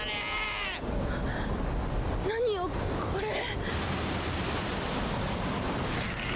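A huge surging wave in a One Piece anime episode roars as a steady, broad rush of water, with a short burst of animated sound effects and voices over it partway through.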